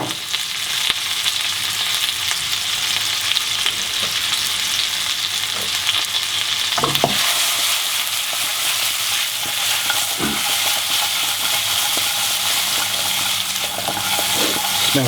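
Chicken of the woods mushroom and garlic sizzle and crackle loudly in a frying pan, a steady close fry broken by a few stirring scrapes and clatters.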